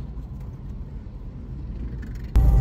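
A Subaru XV Crosstrek climbs uphill and overtakes a truck, giving a steady low engine and road rumble from inside the cabin. Near the end a sudden louder burst cuts in.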